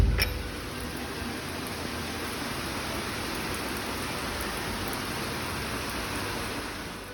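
Steady, dense rainfall hisses continuously outdoors, heavy and even from start to finish, with no voices.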